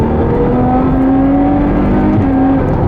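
A Ferrari 812 Superfast accelerates hard, its engine note climbing steadily and then breaking briefly at a gear shift before pulling on, loud and close from inside the car, with no talking.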